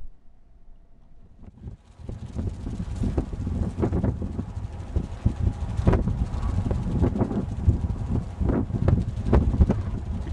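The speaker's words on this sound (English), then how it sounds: "With no load, the wings move at 2 to 3 times the speed of the wind, yet the turbine makes very little noise." A homemade experimental vertical-axis wind turbine spins unloaded outdoors, a soft steady whoosh of blades mixed with gusty wind buffeting the microphone and faint flapping of loose tape, rising after a quiet start.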